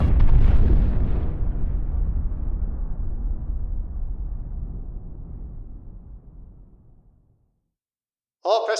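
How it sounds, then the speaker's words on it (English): A radio-drama bomb explosion erupts loudly as a deep boom, then rumbles and fades steadily over about seven seconds before falling silent, followed by a brief burst of sound at the very end. "Bomb strikes you in 3 seconds."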